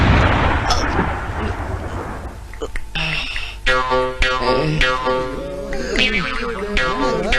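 Firecrackers exploding near a fireworks shop, a loud rumbling burst of blasts over the first three seconds, then sharp cracks scattered under people talking.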